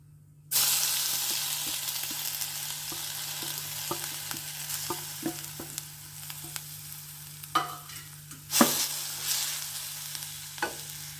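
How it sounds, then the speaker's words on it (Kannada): Grated radish hits hot tempering oil with a steady, close sizzle, punctuated by scraping and stirring clatter of a spoon in the pan. "ಒಗ್ಗರಣೆ ಆಗ ತಕ್ಷಣ ಇದಕ್ಕೆ ತುರಿದಿರೋ ಮೀಡಿಯಂ ಸೈಜ್ ಮೂಲಂಗಿನ ಹಾಕ್ತಾ ಇದ್ದೀನಿ"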